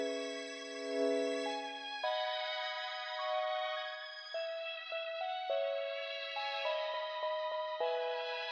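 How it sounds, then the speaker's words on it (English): Two synth melody loops for a 2000s R&B beat in Logic Pro X play together, a sustained chord pad layered with a plucky, rhythmic melodic line that steps through short repeated notes, with no voices. "And combined with the first melody loop"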